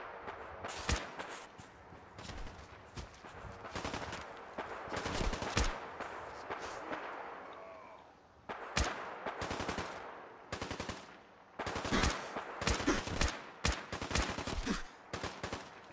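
Enemy gunfire in Fallout 4, fairly quiet but busy: bursts of automatic fire and individual shots come in clusters with short gaps between them, heard alone.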